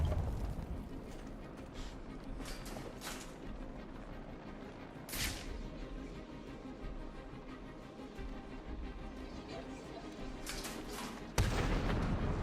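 Rattling gunfire from thugs in Batman Arkham City strikes Batman, a dense, continuous barrage of shots with a few sharper bursts standing out against a busy combat background.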